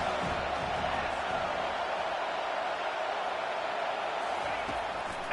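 A stadium crowd at a college football game roaring as it rises up, a broad steady wash of distant cheering throughout, with a commentator talking over it.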